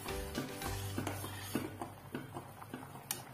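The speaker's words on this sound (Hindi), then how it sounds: "अपनी सब्जी उबलने लगी है" A pot of elephant yam (suran) curry bubbling on the stove, with a steady low rumble and scattered soft pops and clinks, close by and with no voices.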